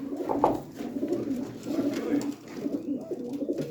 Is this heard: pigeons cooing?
yes